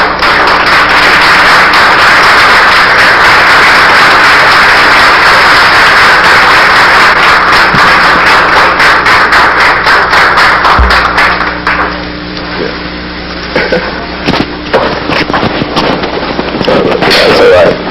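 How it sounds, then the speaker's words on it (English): A lecture hall audience stands and gives loud, dense, sustained applause to welcome a speaker on the Moors of antiquity. It thins after about twelve seconds into scattered individual claps. "would you please stand and give a warm, welcoming applause for Brother Runoko Rashidi"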